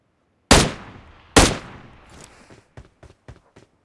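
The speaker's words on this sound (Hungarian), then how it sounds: "Nézd meg, lövöldöznek" Two loud, sharp shots in a video game crack close by with short echoing tails, followed by a string of fainter, distant pops fading out.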